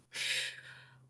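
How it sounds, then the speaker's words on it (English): A single snoring inhale, a raspy, breathy rush that swells quickly, then fades slowly over about a second, close and alone. "Oh yeah, that's snoring."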